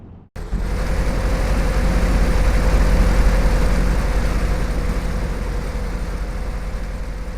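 An Infiniti FX with a Pro Charger and Borla exhaust in the racing game L.A. Rush, its engine starting abruptly after a brief quiet moment, then a loud steady low rumble that holds and slowly eases.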